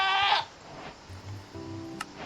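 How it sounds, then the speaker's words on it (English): A goat in the video game Minecraft FTB Skies 2 bleats loudly once at the start, followed by a softer, lower bleat about a second later. "Goddamn goat"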